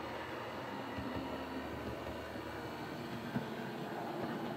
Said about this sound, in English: the drive is pretty smooth in the actual locomotive